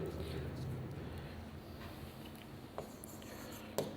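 Pen or pencil scratching out notes by hand during a Hindi biology lecture on roundworms, a soft, steady rubbing scratch close by with a couple of sharp taps, low room noise beneath.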